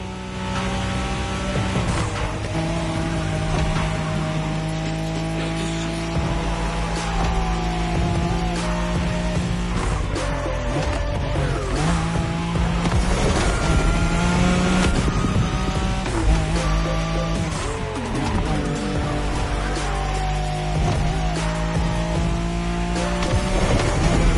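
Nissan Skyline racing in The Crew Motorfest, its engine droning loud and steady with shifting revs, tire squeal and other cars mixed in over a continuous game soundscape.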